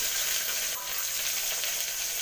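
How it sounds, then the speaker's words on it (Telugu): Onions with cumin and curry leaves are stirred in a hot pan, giving a steady, close, dense sizzle with faint scraping and no voices. "ఆనియన్స్ వేసుకొని బాగా కలిపేసుకోవాలి"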